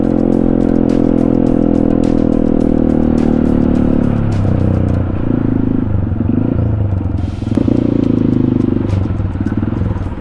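A motorcycle rides along a cemented mountain shortcut road between Bulacan and Rodriguez, Rizal, its engine droning loud and steady with shifts in pitch as it changes speed, and wind rush throughout.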